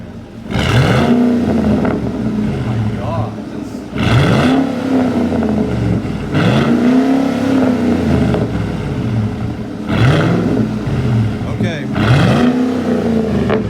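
Ford Raptor V8 exhaust revving after a startup, with loud, deep throttle blips rising and falling roughly every two to three seconds, close by, while people talk over it.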